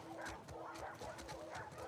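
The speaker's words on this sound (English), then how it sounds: "Oh, dogs." Dogs bark in The Last of Us Part II during a scene at a base, a faint run of short, repeated yips and barks at a distance under low background ambience.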